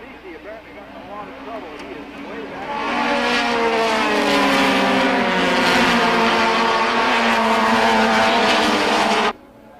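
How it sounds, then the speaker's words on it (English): Race cars at a 1989 SCCA National Championship roar past under the Nissan bridge, engines building from a distant whine to a loud, close blare before cutting off, with a commentator talking over them. "Under the Nissan bridge, it's the number 11 car of Dwayne Davis of Battleground, Washington,"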